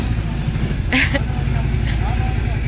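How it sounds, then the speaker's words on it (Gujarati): A newly bought tractor approaches with a steady low diesel chug that runs through the whole stretch, with a brief brighter clatter about a third of the way in and faint voices in the background. "જોજો હવે સીધું આવવાનું છે આપણું ટ્રેક્ટર"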